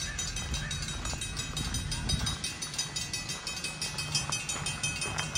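A train passes at Heritage Park in Calgary with a steady, rhythmic rolling clatter of wheels on rails, close and fairly loud, continuing throughout without any talk.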